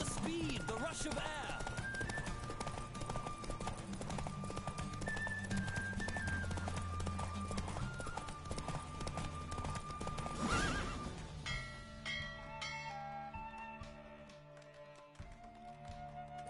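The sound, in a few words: horse galloping and neighing in the video game Witcher 3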